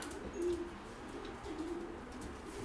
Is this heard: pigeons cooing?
yes